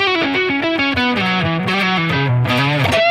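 Lightly distorted electric guitar playing a descending melodic line of sustained single notes, loud and close, with mild overdrive adding grit and no voices over it.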